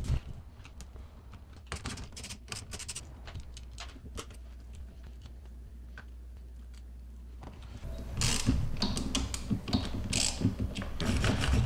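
Handlebar clamp bolts being loosened on a Raptor 700 ATV, heard as a run of close mechanical ratchet clicks and small metallic ticks that continues for several seconds and grows busier toward the end.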